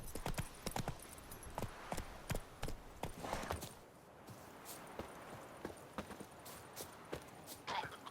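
The horse Roach clip-clops in The Witcher 3, with a steady rhythm of hoofbeats on hard ground, moderately close, over a constant outdoor ambience, briefly slowing before picking up again.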